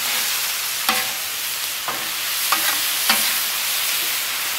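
Whole ribeye steaks sizzle on a flat top griddle in a loud, steady hiss, broken by four or five spaced metallic scrapes and taps of a spatula, with no talking.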